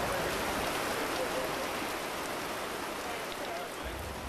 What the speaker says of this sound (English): opens with a torrential downpour